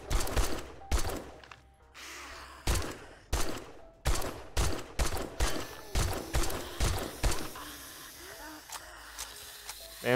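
Bursts of video game gunfire from a zombie horde night in 7 Days to Die, irregular loud shots and short volleys spread across the whole stretch, fading toward the end.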